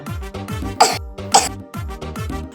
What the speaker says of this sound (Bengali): কি ব্যাপার বাপ, তুমি কাশছো?